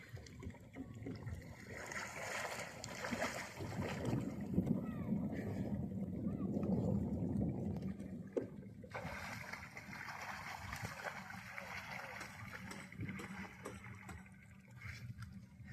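Boats move along a river in the rainy season, with faint engine hum and water splashing and lapping, distant and quiet, while people talk in the background.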